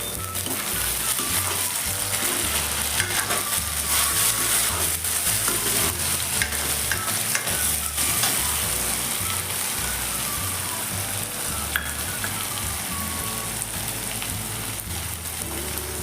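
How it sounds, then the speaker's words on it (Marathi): Tomatoes fry in a hot pan for chana palak masala, added after onion and ginger-garlic paste, giving a loud, steady sizzle with scraping stir strokes throughout, no talking. "टमाटर टाकायचे."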